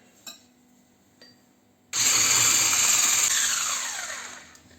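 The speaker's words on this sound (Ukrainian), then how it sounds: "а я візьму, в мене є блендер, щоб скоріше було, і зіб'ю блендером" An electric blender switches on abruptly partway through and whirs loudly and steadily while mixing crepe batter, slowly winding down at the end, after a few faint kitchen clinks in the quiet before it.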